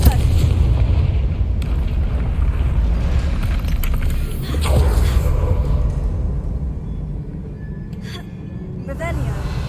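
A Confringo fire spell explosion in Hogwarts Legacy on PS5, a loud booming blast with rumbling low roar rolling through, layered with game effects and a spoken incantation.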